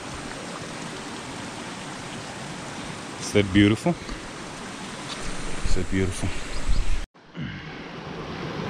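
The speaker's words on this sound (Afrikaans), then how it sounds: "Check all this stunning water running here." Running stream water on a hiking route to the Old George Dam, a steady broadband rushing that fills the clip, with a voice speaking over it partway through.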